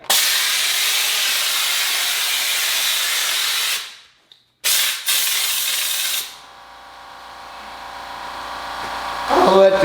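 An air compressor runs during drywall texture spraying: a loud hissing air blast cuts off briefly, then a quieter, steady mechanical hum with motor tones gradually swells as it recharges.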